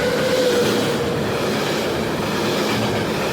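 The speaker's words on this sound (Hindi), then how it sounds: "इस बार गतिरोधक बनी ट्रेन" A train rolls past a level crossing in Chhattisgarh, a loud, close, continuous rumble with rattling wheels and a brief squealing tone early on.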